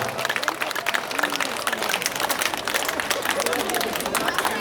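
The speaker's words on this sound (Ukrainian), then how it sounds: "І тепер дуже гучно аплодуємо" Audience at a Mother's Day charity concert in Athens applauding loudly, a dense, continuous patter of many hands clapping with a crowd murmur underneath, steady for the whole stretch.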